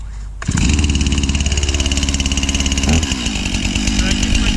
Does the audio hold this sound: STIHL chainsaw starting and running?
yes